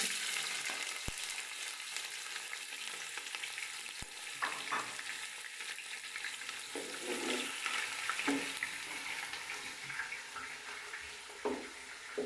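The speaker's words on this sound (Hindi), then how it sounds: "ऑयल हमारा गर्म हो चुका है। अब हम इसमें प्याज डालेंगे।" Onions fry in hot oil for aloo matar pulao, giving a steady close sizzle throughout, with a few light stirring clinks and scrapes in the pan and no talking.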